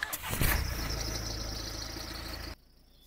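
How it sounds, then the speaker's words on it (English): A 2017 Nissan X-Trail diesel cranks and fires up close by, a short rough starter burst settling into a steady idle before cutting off abruptly. "I'm going to, however, start the car first."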